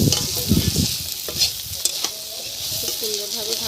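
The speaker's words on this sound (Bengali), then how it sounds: "মশলাটা খুব সুন্দর করে ভেজে নিয়েছি," Cumin and ginger masala paste being stirred as it fries in a pan, giving a close, continuous sizzle broken by several scraping strokes of the spoon over a few seconds.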